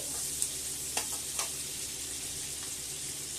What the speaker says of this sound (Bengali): ওই তেলের মধ্যে এবারে দিয়ে দিচ্ছি গোটা গরম মশলা, দিয়ে দিচ্ছি 2টো তেজপাতা